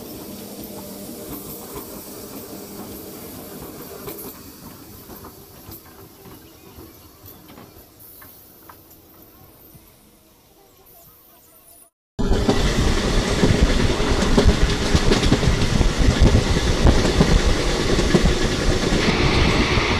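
Asansol–Haldia superfast express rolling on the rails past Sirjam station, heard from on board as a moderate rumbling clatter that cuts abruptly to a much louder, harsher roaring rush, continuous and without speech.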